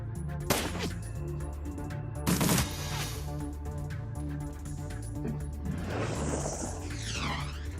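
Shotgun blasts in the video game Dragonfall, two sharp loud bursts a couple of seconds apart over a steady droning game soundtrack, followed by whooshing effects.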